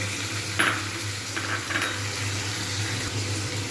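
Ginger-garlic paste sizzles quietly in a pan after a little water is added, giving a steady low hiss over a background hum, with a few faint clinks.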